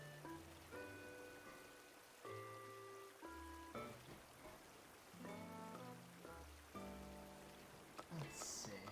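Rain patters softly and continuously in Animal Crossing New Horizons, a quiet steady hiss beneath gentle plucked game-music notes.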